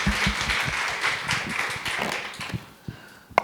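A conference audience at a leadership panel on AI claps briefly, a burst of many hands that thins into a few scattered claps and taps before dying away.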